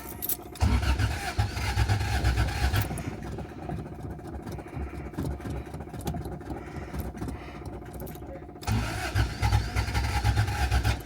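A 1986 Toyota Tercel station wagon with a carbureted 3A-C engine, cranking with a rapid whirring starter, then catching and running unevenly at idle before cranking again near the end.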